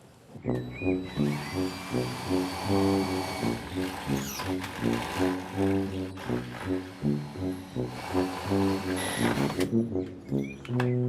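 A power drill whines steadily up close, its pitch pulsing and rising in a continuous rhythmic grind as it drills through a door lock during a locksmith job.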